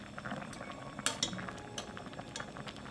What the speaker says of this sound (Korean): 면이 거의 익으면 대파와 풀어놓은 계란을 넣고 살짝 저어 마무리합니다